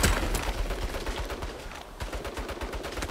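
Rapid turret gunfire in the game Saints Row, a loud close stream of sharp repeated shots with a brief lull near the middle before the burst resumes, with no talking.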